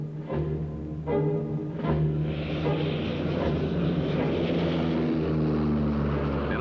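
A propeller-driven observation aircraft drones overhead, a loud, sustained engine roar with a steady tonal buzz that swells and holds as it passes low beneath cloud cover.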